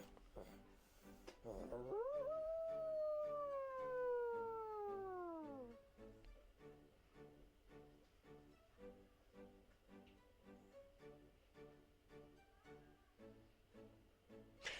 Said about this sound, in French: le mec là il vient d'hurler en mode loup dans son bahut là